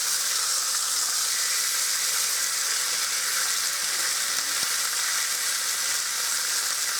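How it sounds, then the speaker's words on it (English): Pork chops sear in a hot pan, a steady, loud, dense sizzle and hiss that holds evenly throughout with no talking. "Just to get a little sear on them."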